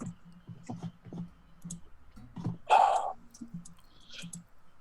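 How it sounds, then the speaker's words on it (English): Keyboard typing during an online tabletop game session: soft irregular clicks and taps scattered over several seconds, close and quiet, with a brief louder rustle or breath partway through. "Yeah, I'm typing it in."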